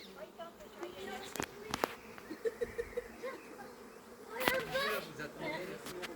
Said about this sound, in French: J'ai fait tomber les abeilles, j'ai pas fait exprès.